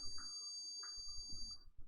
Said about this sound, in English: I'm not sure why the speaker's just beeping a whole lot.